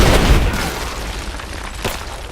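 Gunfire and explosions in the video game Rise of the Tomb Raider: a dense, loud barrage of booming blasts and rapid shots, with a sharp burst near the end, continuous and close without any talk.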